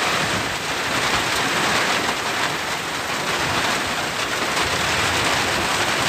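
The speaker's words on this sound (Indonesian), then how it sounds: "Hujannya campur angin mas bro, lumayan lebat." Heavy storm rain pours steadily and loudly at a reservoir fishing spot, a dense unbroken hiss driven by gusting wind.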